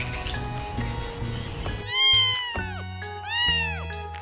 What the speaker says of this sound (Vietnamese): Chú mèo con.